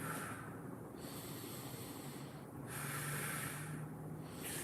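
A person breathes slowly and audibly while holding a twisting stretch in a full-body strength workout, long airy inhales and exhales alternating in a steady rhythm, close and quiet.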